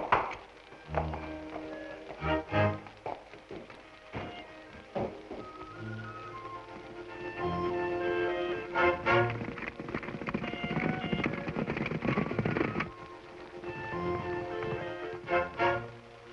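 Horse hooves clip-clop in an old 1936 film serial soundtrack, a series of irregular thudding beats mixed with bursts of music and scattered noise, moderately faint throughout.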